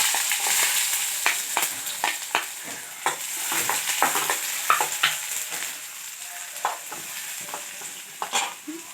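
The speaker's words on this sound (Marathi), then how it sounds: "बारीक गॅस ठेवून हे परतून घ्यायचं" Chopped onion with cumin sautéing in a pan over low flame for Maharashtrian pav chutney, a steady sizzle broken by frequent rhythmic spatula scrapes and stirs throughout.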